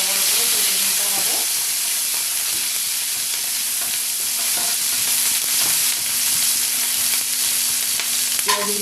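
Large diced onions fry in a pan with a constant bright sizzle, broken by occasional clinks and scrapes of a spoon stirring them.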